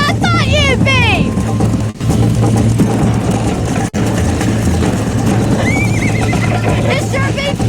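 In the Western video game Red Dead Redemption, a horse whinnies loudly near the start while hooves gallop steadily underneath, with voices talking over the busy, continuous action and a second faint whinny later.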